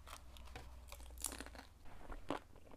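A bite into a gyoza dumpling dipped in soy sauce gives a few soft, close crunchy chews, quiet and alone, with a sharper crisp snap near the end.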